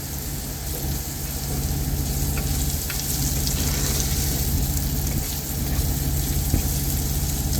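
Food fries and caramelizes in a pan on a Coleman camp stove outdoors, giving a steady, close sizzle with a constant hiss and faint occasional pops throughout.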